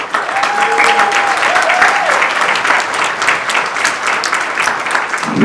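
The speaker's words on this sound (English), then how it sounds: "give a warm round of applause to the breathtakingly gorgeous Aliya." Guests at a wedding reception applaud, a steady crowd clapping that runs for several seconds at a fairly close distance, with some voices and a faint tone audible underneath.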